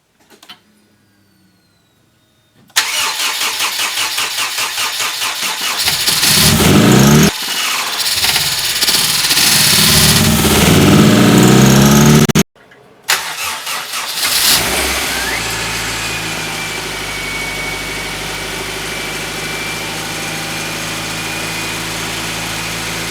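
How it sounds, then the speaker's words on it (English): A rebuilt Honda CR-V engine cranks and catches on its first start after a silent pause, then revs hard in loud bursts, cuts out briefly, restarts and settles into a steady idle with a high whine. "we possibly have it narrowed down to a clogged fuel rail. Still not sure, but I'm filming just in case this is the first start."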